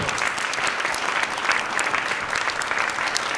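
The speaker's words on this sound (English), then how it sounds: "Let's have a round of applause for these amazing people right here." An audience at a dance performance and talk event applauds, a thick, even wash of many hands clapping at steady loudness throughout.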